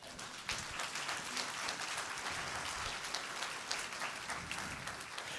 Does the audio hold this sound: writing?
no